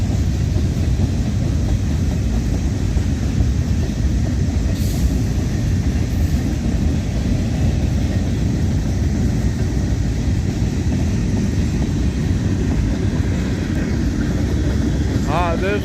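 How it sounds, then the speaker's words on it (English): A mixed manifest freight train hauling empty auto racks rolls past, giving a steady loud rumble and clatter of wheels on rail for the whole stretch, with a person talking over it. "this is a mixed manifest train and empty auto rack"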